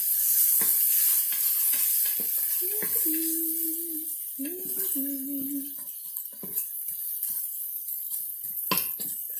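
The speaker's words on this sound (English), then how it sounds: "we're just going to keep it stirring so we don't get the bacon stuck either" Bacon sizzles in a Pampered Chef Quick Cooker while being stirred, a hissing fry with clinks and scrapes and a couple of short hummed, voice-like tones partway through.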